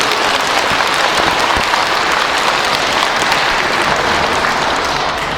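An audience at a Buddhist lecture on the Lotus Sutra breaks into loud, steady applause that holds evenly for several seconds, with no one speaking.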